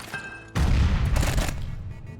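A grenade launcher fires in the video game Quasimorph, a heavy booming blast that hits at once and rumbles on through a long, loud decay, with no voices over it.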